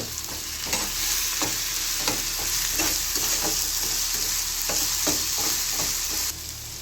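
Masala with ginger garlic paste sizzles loudly in hot oil for fish roe bhujia, with steady frying hiss and repeated scraping stirs of a spatula in the pan.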